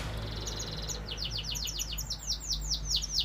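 Newly hatched canary chicks chirping in a rapid, high run of thin tweets that grows slightly louder and quicker, faint and close over a low steady hum.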